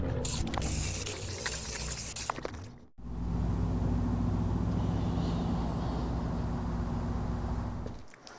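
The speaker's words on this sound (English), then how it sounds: "We painted it black with some black spray paint." Black spray paint hisses steadily onto a CNC-cut chessboard blank, a close, continuous aerosol spray that pauses briefly and then resumes for several seconds.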